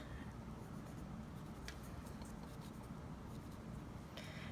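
A pencil or pen drawing a few short lines at the corners of background paper for a Notan design, giving faint, soft scratching strokes against a steady quiet background hiss.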